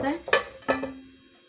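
A metal lid set down over a pan of spiced potato slices, making two bright clanks in quick succession, the second ringing on briefly before fading, close by.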